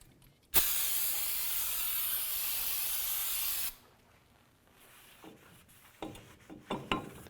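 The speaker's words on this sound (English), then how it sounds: "we're going to spray it down with some brake parts cleaner" A loud continuous aerosol spray of brake parts cleaner hisses for about three seconds on front brake parts of a 2008-2012 Ford Escape, then stops, followed by quiet rustling and light clatter.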